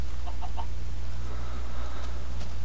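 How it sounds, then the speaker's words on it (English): Three quick clucks from a pet chicken in Minecraft, close and fairly clear, followed by quieter soft clucking over a steady low hum of game ambience. "Stop trying to hunt the chicken."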